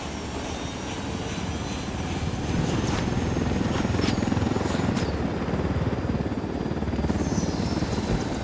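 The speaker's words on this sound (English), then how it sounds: "Down, get down, chopper!" A helicopter in the Ghost Recon Wildlands video game thumps close and loud with rapid rotor chop and a turbine whine, swelling slightly partway through amid faint game noises.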